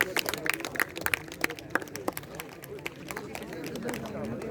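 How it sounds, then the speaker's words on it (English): At a school sports awards ceremony, an audience applauds the cricket and badminton umpires and referees, scattered, crisp claps clustering in the first two seconds and then thinning out as voices and crowd chatter take over. "Please have a huge round of applause for our umpires and referees."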